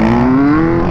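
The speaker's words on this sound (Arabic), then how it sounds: "دابا يرقع اكسيلو ويطير به" A 13-year-old's motocross dirt bike engine revs hard on a narrow, cramped track, a loud, steady rising drone right up close with no talk over it.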